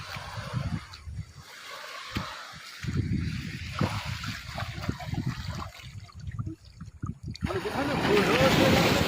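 Sea water washes and splashes around a boat at sea, under people talking. The surge of waves grows louder and fuller toward the end.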